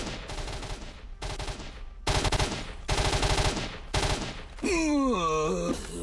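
NPC's nonstop gunfire in S.T.A.L.K.E.R., several loud automatic bursts separated by short pauses, followed by a groaning creature cry at the end.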